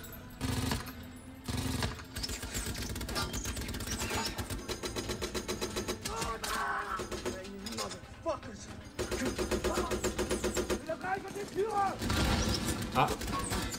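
MG42 machine gun fire in a war film, rapid mechanical rattling bursts running almost continuously with brief gaps, loud and dense across the whole stretch.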